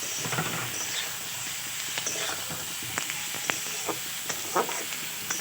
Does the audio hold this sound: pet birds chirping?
no